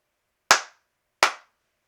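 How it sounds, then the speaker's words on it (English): Two sharp, separate hand claps about three-quarters of a second apart, close and loud, each with a quick decay, marking the start of a podcast recording in a quiet room. "clap this bitch up"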